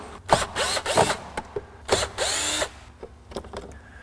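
A power tool removes screws from an Acura Vigor blower motor assembly in several short, whirring bursts of varying length, each starting and stopping abruptly, close up with quiet gaps between.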